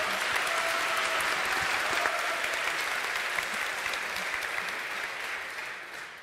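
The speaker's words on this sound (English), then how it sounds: "So please give the final applause and welcome." Large audience applauding at a conversation event, a dense steady wash of clapping that stays loud throughout and only begins to thin slightly toward the end.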